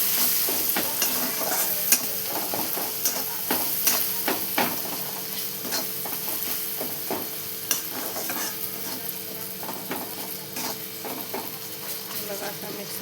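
Spices, turmeric and onion being stirred in a frying pan, with steady scraping strokes over a continuous close sizzle throughout a vegetable curry of brinjal and peas.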